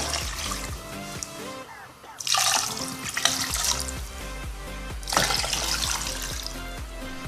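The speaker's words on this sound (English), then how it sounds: "We put 3 cups of water." Three cups of water poured into a cooking pot with chicken in it on a stove, two rushing splashing pours separated by a pause, with kitchen clatter and faint background sounds.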